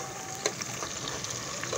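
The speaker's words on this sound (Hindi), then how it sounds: "अभी प्याज को ब्राउन होने दो" Onions fry in a pan for chicken biryani while a spoon stirs them, a soft continuous sizzle with faint scraping strokes, quiet and close.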